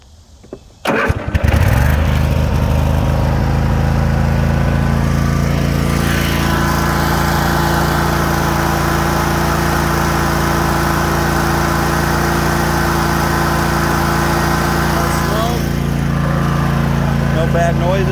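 A Cub Cadet RZT 50-inch zero-turn riding lawn mower with about 450 hours starts up after a brief clatter, then its engine runs at a steady, loud, close drone throughout.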